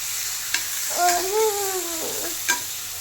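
Onions sautéing in a pan give a steady close sizzle, broken by a few sharp utensil scrapes and a short tonal squeak midway, with no talking.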